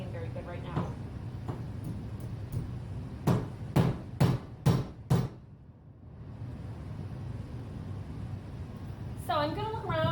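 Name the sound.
hammering nails into hardwood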